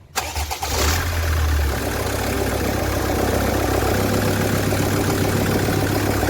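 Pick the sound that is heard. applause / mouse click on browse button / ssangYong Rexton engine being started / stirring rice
ssangYong Rexton engine being started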